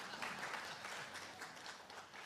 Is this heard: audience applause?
yes